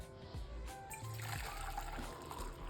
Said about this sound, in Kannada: ನೋಡಿ ಇವಾಗ ಬಿಸಿನೀರು ಹಾಕ್ಕೊತಾ ಇದ್ದೀನಿ